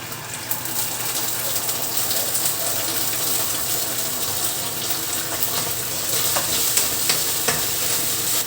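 Onions, garlic and ginger stir-fry in a hot pan, giving a continuous close sizzle with the scrape of stirring and small clinks, and no talking.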